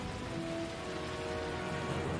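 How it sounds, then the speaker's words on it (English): Steady rain patters densely on a surface in a scene from a Scooby Doo movie, a continuous soft hiss with a faint tonal hum underneath and no voices. "Rain pattering is a good ASMR."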